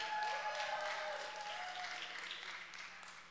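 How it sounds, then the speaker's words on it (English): A church congregation applauding the children's group, a dense wash of many hands clapping at once, loud and sustained before gradually tapering off, with a faint musical tone lingering underneath. "Can we clap for them?"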